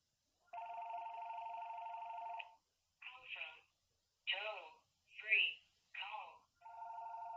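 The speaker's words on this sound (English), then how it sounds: "My phone is ringing." An electronic phone ring sounds up close: a long steady trill, then a series of warbling chirps, and another steady trill starting at the end.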